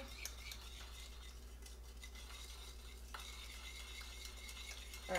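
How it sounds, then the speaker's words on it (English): Spoon stirring a seasoning mixture in a bowl for rutabaga fries, a soft steady scraping and light clinking of utensil against the dish, close and quiet with no voices. "now I'm going to stir that up"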